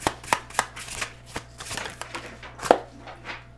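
Tarot cards shuffled and drawn during a reading, a handful of soft close slaps and flicks spaced irregularly in a quiet room, with no talking.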